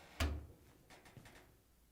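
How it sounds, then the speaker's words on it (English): The door of a Hotpoint dryer is pulled open with a single sharp latch click and thud, followed by a few faint rattles as it swings, with no speech. "To get it apart, we need to open the door."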